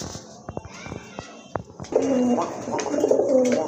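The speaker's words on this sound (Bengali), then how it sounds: "এখানে কিন্তু আর এক জোড়া রাজগোল্লা কবুতর আছে" Rajgolla racer pigeons coo in a loft, with soft rolling, throaty calls that swell in the second half after a few sharp clicks and rustles.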